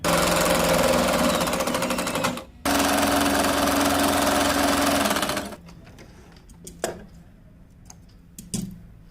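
Sewing machine stitching a baby cap, a loud steady mechanical whir running for a few seconds, briefly pausing, then resuming before stopping, followed by faint scattered clicks and handling taps.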